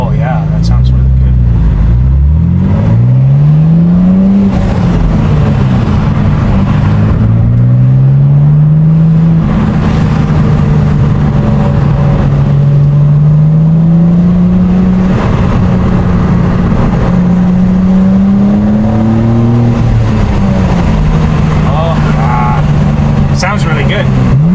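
BMW G87 M2 with an AWE Track Edition exhaust, heard from outside, revving repeatedly in rising and falling sweeps, loud and close, with people talking over it.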